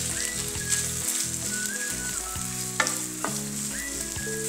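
A medium-size onion, finely chopped, sautés in a pan with a steady close sizzle and occasional scraping stirs, while soft music runs underneath.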